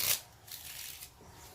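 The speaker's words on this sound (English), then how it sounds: "One more little shuffle here." Tarot cards are given a brief, soft riffling shuffle, a quiet papery flutter lasting little more than a second, heard close and alone.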